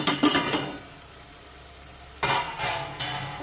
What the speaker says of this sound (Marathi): आता आपण झाकण काढून घेऊ